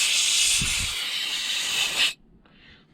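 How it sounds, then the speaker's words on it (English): Compressed air blasts onto the gasket of a Honda generator in one loud, close hiss lasting about two seconds, cutting off sharply and followed by a brief fainter puff. "I'm just gonna give that gasket just a little quick blow"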